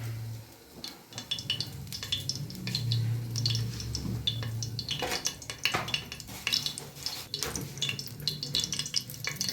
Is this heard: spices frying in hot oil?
yes